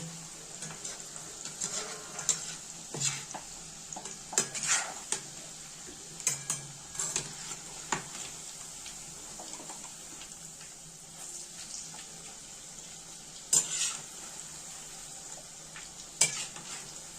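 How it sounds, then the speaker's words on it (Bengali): Cabbage pakoras deep-fry in hot oil in a wok, giving a steady close sizzle broken by occasional sharp clinks and scrapes of stirring, with no voices. "পোকড়াগুলো দিয়েছি কড়াইতে"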